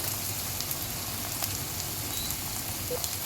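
Chicken frying down in an oily pan for curry, a continuous crackling sizzle with scattered pops, steady and close, with no voices.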